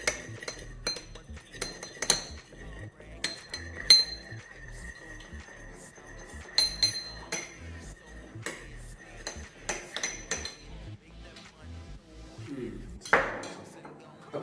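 A spoon whisks soy sauce vinaigrette in a bowl, giving rapid close metallic clinks and taps in uneven bursts against the dish, with a brief voice near the end.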